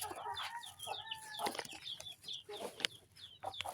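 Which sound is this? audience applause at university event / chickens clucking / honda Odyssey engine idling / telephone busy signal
chickens clucking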